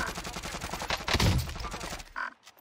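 Rapid bursts of automatic gunfire in the Warzone battle royale game, a dense volley of shots with a louder, heavier blast near the middle, close and continuous, with no talk over it.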